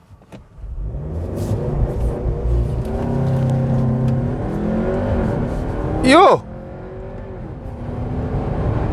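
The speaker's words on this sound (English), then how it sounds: "we actually have launch control in this car." A VW T-Roc R-Line in sports mode and manual, traction control off, launches hard with launch control. The engine note climbs steadily and loudly through the run, and a short excited shout cuts in near the end.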